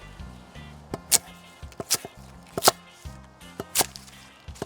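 A knife trimming the ends of scallions and shallots on a cutting board, a handful of sharp, separate chops spaced irregularly, close and crisp over a low background hum.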